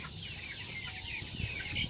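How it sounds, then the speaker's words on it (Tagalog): A pet chicken clucks softly a few times on a rooftop garden over a steady background hiss. "Tapos ito din yung aming alagang manok."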